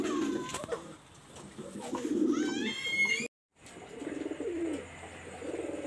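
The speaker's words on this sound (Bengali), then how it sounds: "প্রথমে আমি একটা পেয়ার কবুতর দেখাচ্ছি, দেখেন এটা হলো লাল পায়রি কবুতর" Pigeons cooing on a pigeon farm in Daulatpur, Khulna, soft repeated coos close by with a few chirps and thin whistles, briefly cut to silence midway.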